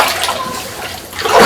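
Floodwater rushes and splashes around a flooded house, a loud, close, turbulent wash that surges and swells toward the end.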